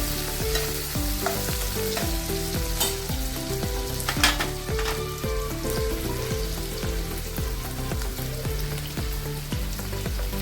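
Chopped tomato and onion hit a hot pan and sizzle in a steady, close hiss with stirring, while soft background music plays underneath throughout.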